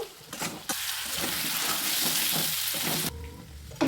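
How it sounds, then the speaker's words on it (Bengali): Mutton curry frying in a pan, stirred with a loud sustained sizzle that starts abruptly after a quieter opening, with occasional utensil scrapes and a brief drop back near the end; no talking. "আবারও ভালো করে নাড়াচাড়া করে নেব"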